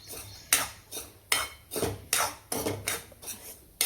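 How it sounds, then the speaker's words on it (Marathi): Semolina is stirred as it roasts in a kadhai for rava laddu, a spoon scraping and clinking against the metal pan in regular strokes, about eight sharp scrapes in four seconds, close and alone without talk. "भाजतच राहायचं, सारखं फिरवत राहायचं."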